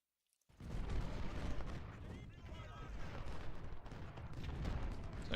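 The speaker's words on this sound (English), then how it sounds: "no need to take fire from that 3-star artillery" Artillery fire from a Civil War battle in the strategy game Ultimate General: Civil War, Washington Day 2: after a brief silence, a dense, continuous wall of booming cannon and gunfire rumbles loudly throughout, with shots blending into one another.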